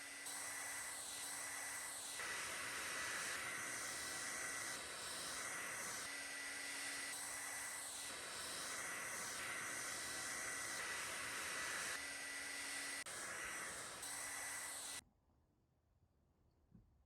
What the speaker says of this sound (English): I'm using my hairdryer frequently so that that doesn't bleed into the bubbles